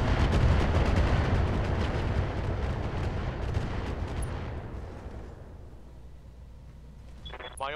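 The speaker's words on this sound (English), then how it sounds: "Well, somebody's got some rockets." Heavy rocket fire in the mech game Roguetech: a dense, loud roaring barrage dominates the first four seconds, then fades to a lower rumble with a brief sharp sound at the end.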